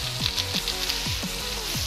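Stuffed potatoes and brinjal fry in a pan with a steady, close sizzle. Soft repeated scraping or stirring strokes run under the crackle.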